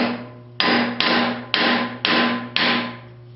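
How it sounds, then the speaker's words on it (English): A ball peen hammer taps a bolt five times to free cast pewter from its mold: sharp, evenly spaced metallic knocks, close and clear, each ringing briefly before the next. "Ball peen hammer."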